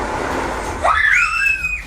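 A girl lets out a sudden loud, high scream that rises and holds as possessed dolls turn their heads, following a muffled rush of background noise.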